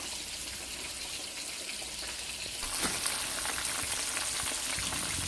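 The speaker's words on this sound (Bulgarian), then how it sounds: "аз ги пържа от 3 до 4 минути, зависи от филето" Fish fillets fry in hot oil with a loud, constant crackling sizzle that grows busier and brighter midway, close and alone without any talk.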